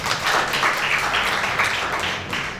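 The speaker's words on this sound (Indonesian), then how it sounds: "Berikan tepuk tangan bagi Tuhan." Congregation clapping in a church service, a dense sustained round of applause filling the room at moderate loudness, tapering slightly toward the end with faint voices mixed in.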